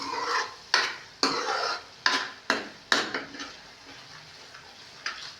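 Masala for black chickpea curry scraped and roasted in a hot pan, a series of sharp spatula strokes with a soft sizzle underneath, close and fairly loud.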